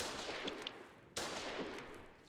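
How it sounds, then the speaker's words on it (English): A mortar strike in the war game Foxhole lands as two sharp, booming impacts about a second apart, each trailing into a rumbling decay over a steady background of distant battlefield noise; no one talks. "Is that a mortar strike?"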